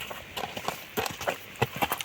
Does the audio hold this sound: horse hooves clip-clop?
yes